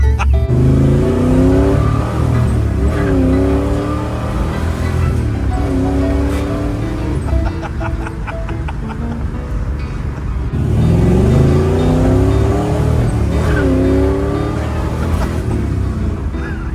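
A big-block V8 in a car fitted with a Performer RPM dual-plane intake revs hard while driving, rising and falling through repeated loud, close pulls with a deep rumble between them.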